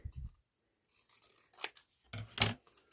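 Scissors snip through paper in a few short, crisp cuts at close range, separated by brief quiet pauses, with no talking.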